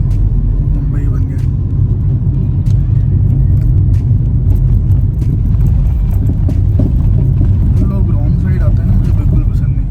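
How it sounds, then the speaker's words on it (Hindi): Heavy road traffic in Chandigarh forms a steady, close engine rumble with continuous low road noise and passing vehicles throughout. "ट्रैफिक बहुत ज़्यादा हो गया चंडीगढ़ में"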